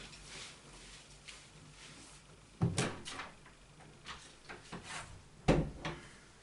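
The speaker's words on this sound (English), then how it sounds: "Like, honestly, I feel like closing the door." An interior door swung shut in a home, heard as a sharp wooden thud near 2.7 s followed by a second firm knock near 5.5 s, with lighter rustling and small bumps between and a quiet room hum underneath.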